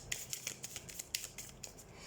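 Tarot cards drawn one by one from a deck, giving a series of quiet, crisp card slides and snaps at an uneven pace, close by with no talking.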